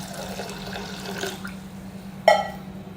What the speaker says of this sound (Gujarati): એની સાથે પાણી પણ એડ કરી દઈશું.